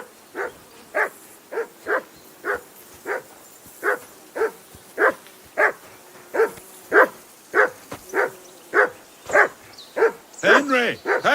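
A dog barks in the video game Kingdom Come: Deliverance II, a loud, steady run of single woofs about one every two-thirds of a second, ending in quicker excited yips.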